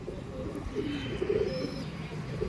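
Low, soft cooing from a racing pigeon of a top breed, a muffled rolling murmur close by over a faint steady background hum.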